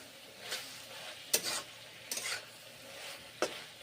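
Grated ginger sautéing for a drumstick vegetable curry, a quiet background sizzle with four short scraping stirs of a spoon against the pan.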